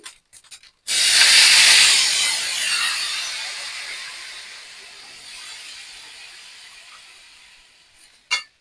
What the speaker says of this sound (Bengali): এই যে আমি ক্যারামেলের জলটা দিয়ে দিলাম